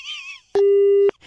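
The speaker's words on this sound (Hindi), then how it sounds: "फोन काट दिया, फिर से लगाऊं या रहने दूं?" A phone call cuts off in a single loud, steady electronic tone lasting about half a second, preceded by a brief muffled voice and followed by faint talk.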